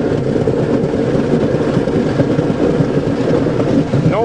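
A 1990 Ford Thunderbird with failing brakes and loose fuel lines rattles and grinds while driving, its power steering adding a mechanical whine and ratcheting clatter under dense, loud, continuous road noise.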